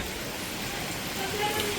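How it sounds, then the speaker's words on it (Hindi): Waterfall pouring across a mountain pilgrimage path during heavy monsoon rain, a steady broad rushing wash of water, close and unbroken, with a voice faintly beneath it. "यहाँ हमारे रास्ते के ऊपर से ही झरना बह रहा है।"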